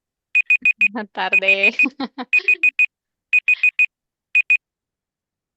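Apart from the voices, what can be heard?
alarm going off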